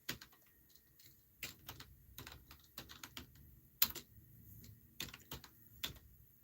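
Someone types on a computer keyboard in a quiet basement room, with irregular bursts of light key taps, a few sharper clacks and brief pauses, close and fairly soft.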